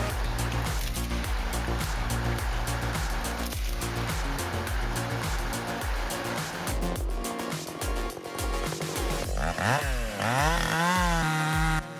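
A big chainsaw cuts through tree trunks, its loud engine droning continuously up close, with the pitch repeatedly revving up and down in sweeping bursts toward the end.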